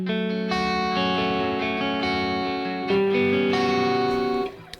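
Sustained, thick distorted electric guitar chords ring out through an overdriven amp, held notes changing pitch a few times before cutting off near the end, loud and alone with no voices.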